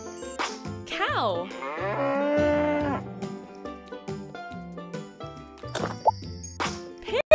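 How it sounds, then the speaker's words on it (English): Cow mooing in a children's game, a drawn-out moo layered over cheerful game music and sound effects with plopping sounds, moderately loud. "Cow."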